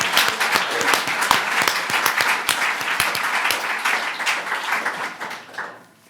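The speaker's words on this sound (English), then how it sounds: "let's all give Mary a huge clap" Warm audience applause at a book launch, many hands clapping in a lively, fairly close burst that gradually thins and fades out after about five seconds.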